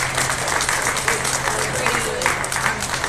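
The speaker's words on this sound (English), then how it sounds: "Let's give these young kids a round of applause to head back to the barn" Audience applause at a 2023 beef cattle show as young exhibitors lead their animals back to the barn, a steady wash of clapping over the hum of a large show arena with a low drone underneath.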